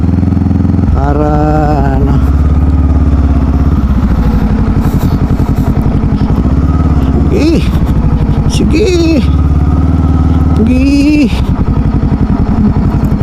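An adventure motorcycle rides along a rural road near New Clark City, its engine droning steadily and loudly with wind buffeting, while the rider talks over it.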